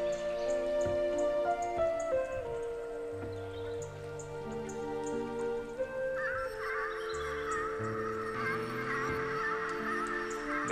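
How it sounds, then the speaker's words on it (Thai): Goose or duck honking in the video game Ori and the Will of the Wisps, a few soft honking calls over gentle rain and a melodic game soundtrack. "เดี๋ยวไปเห็นนกเป็ดน้ำดีกว่าหรือห่านนะ"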